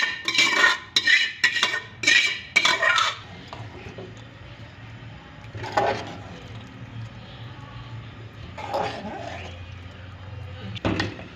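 Curry being scraped from a pot into urad dal, with loud utensil clinks and scraping at the start, then a quieter background hum broken by a few more clanks.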